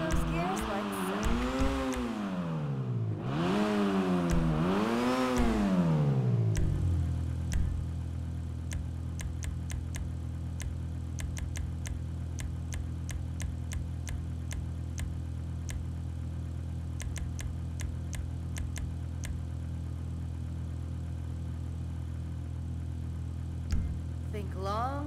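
The Overflod Entity XXR hypercar in a video game revs up and down through several gear changes, its engine note rising and falling, then settles into a steady, droning hum for the rest of the clip.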